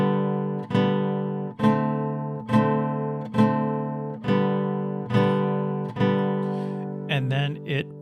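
Classroom acoustic guitar playing a short closing passage, about seven evenly spaced strummed chords, each ringing and decaying before the next, then a quicker flurry of plucked notes at the end.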